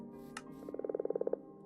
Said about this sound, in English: These are frogs.